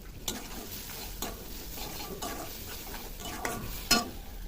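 Ginger-cumin paste and spices being stir-fried in a pan for a Bengali mustard okra dish: a low steady sizzle broken by a few sharp scrapes and knocks of the spoon against the pan, close up, no voices.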